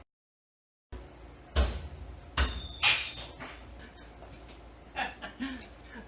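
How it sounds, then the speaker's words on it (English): A few sharp metallic whacks ring out as a rubber mallet strikes a wrench held in a vise, three spaced blows followed by lighter taps, with quiet rustling and handling noise between them. "Hit it a couple times with a rubber mallet."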